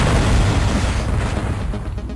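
Missile explosion in the Descent video game: a loud, dense booming blast that rolls on for about two seconds and slowly eases off, with no talk over it.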